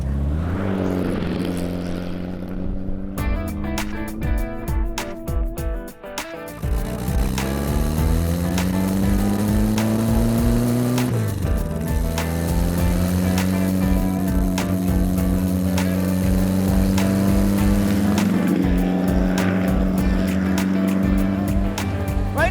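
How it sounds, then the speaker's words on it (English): A handmade Runge FF004 Flyer car with a Porsche 356 drivetrain drives along, its engine droning loudly and rising in pitch through the gears, with a brief shift pause near six seconds and no talking. "I'm driving the world's only handmade Runge FF004 Flyer. It's got a Porsche drivetrain from an old 356"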